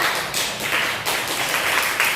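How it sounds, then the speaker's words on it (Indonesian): Classroom applause for a student group after their presentation: a steady, dense patter of many hands clapping together for a couple of seconds, fairly loud and even, with a few soft thuds mixed in. "Tepuk tangan dulu untuk kelompok 1"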